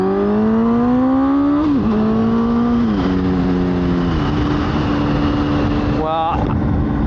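Honda 919 motorcycle engine accelerating through the gears, its pitch climbing steadily then dropping at each shift, loud and close with wind rush behind, repeated several times over a few seconds.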